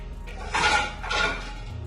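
A metal karahi pan set down onto a stove gives two brief clanking knocks in quick succession, close and fairly loud against a quiet kitchen background.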